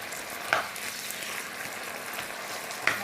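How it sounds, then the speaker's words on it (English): Vegetables for drunken noodles stir-fried in an iron wok over a gas flame, a steady close sizzle broken by two sharp scraping clanks of the spatula against the metal; no voices. "stir it until the vegetable cook"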